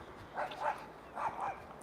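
A woman's dog outdoors on a summer day gives two pairs of short, high yipping barks, fairly faint and distant, with quiet background between them.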